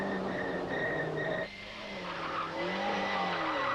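Onboard a rally car charging along narrow roads at the 1992 Rally Hautes Fagnes, the loud engine drones and shifts pitch while tires squeal and skid, with a brief dip as the car backs off before it accelerates hard again.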